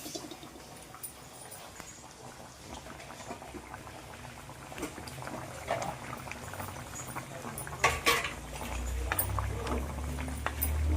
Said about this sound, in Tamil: இந்த கிரேவி நல்லா கொதிக்கட்டுங்க